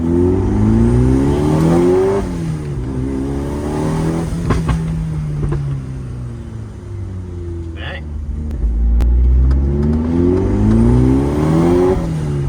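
A car engine revs hard in loud surges that rise and fall, punctuated by sharp pops and a big backfire as flames shoot from the exhaust.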